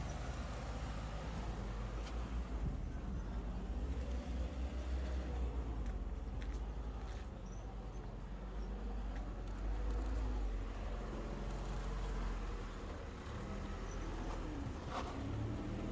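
A classic Jeep driving up a rough off-road trail in January, its low, steady engine rumble and drivetrain noise continuing throughout, with occasional knocks and rattles from the body.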